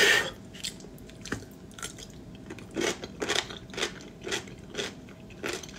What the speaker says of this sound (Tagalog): Sorry kung medyo magiging maingay yung nguya ko ha.